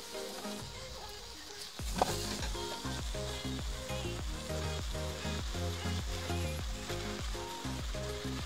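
Dried fish curry with moringa drumsticks sizzling in a hot pan while being stirred, a steady close frying hiss broken by regular scraping stirs.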